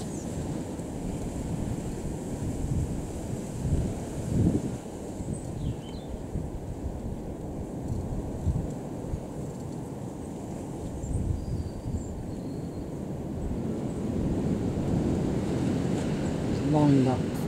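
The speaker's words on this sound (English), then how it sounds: "There's a very windy day" A steady roaring 45 mph gale buffets the microphone with gusty rumbling surges throughout, a constant blustery noise with no clear speech.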